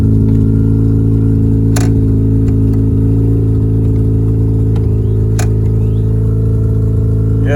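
A Mazda FC RX-7 rotary engine runs loud and steady at close range for the whole stretch. It holds a high idle with mild swells in revs, and there is no talking.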